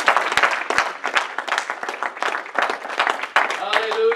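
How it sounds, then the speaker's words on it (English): A church congregation claps its hands in praise, a dense, loud patter of many hands mixed with crowd voices and shouts throughout. "Give the Lord a hand clap of praise."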